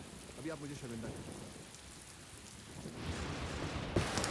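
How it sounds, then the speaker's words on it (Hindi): A sudden, heavy rain pours down in a steady broadband hiss that swells louder toward the end. A brief voice comes in near the start, and a single sharp hit lands close to the finish. "ये अचानक बारिश और वो भी इतनी जोर से"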